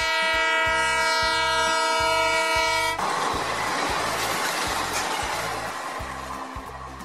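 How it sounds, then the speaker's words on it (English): A train horn blares steadily for a few seconds and then cuts off, leaving the rumbling, rhythmic clatter of rail cars rolling past on the tracks. "And the train."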